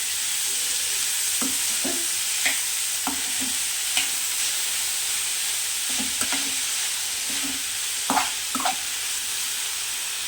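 Chopped green bean pieces frying in a kadai after tempering, a continuous loud sizzle with scattered spoon scrapes and taps against the pan as they are stirred.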